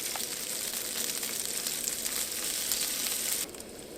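Sausages, black pudding and smoked streaky bacon frying in a pan give a steady, close crackling sizzle that runs throughout and drops a little near the end.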